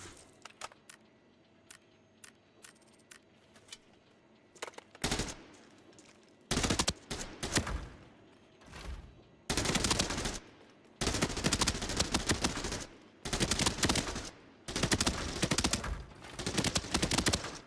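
Automatic gunfire from an AEK rifle in a shooting video game, loud bursts of rapid fire, some short and some sustained, separated by brief quiet gaps and a few isolated single shots early on.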